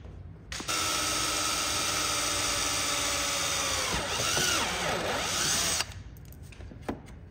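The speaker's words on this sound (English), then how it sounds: "Drill the hole in the center to allow the wires to go through there." A high-pitched Dremel rotary tool whines steadily for several seconds, its pitch dipping and wavering as it drills a hole through a Camaro's front bowtie emblem, then cuts off.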